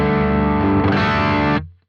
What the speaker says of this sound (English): if I bypass this one, it's gonna go straight to the amp, which is the bridge stack, and it sounds like this.